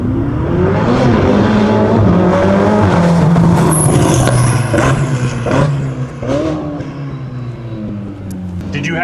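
A rebuilt Ferrari 488 engine revs hard and loud up close, a sustained throaty roar with a few sharp throttle blips and swells, with no one talking over it.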